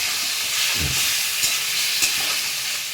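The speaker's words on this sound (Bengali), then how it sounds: "এবার একটু মশলাটা কষিয়ে নেবো, সামান্য এক ফোঁটা জল দেব, গরম জল দিয়ে দিলাম এক ফোঁটা।" Spice paste sizzles and hisses steadily in a hot pan after a splash of hot water, with a brief stirring scrape, close and continuous, no voices.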